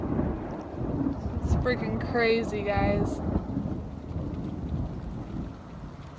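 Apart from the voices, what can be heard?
thunderstorm with heavy rain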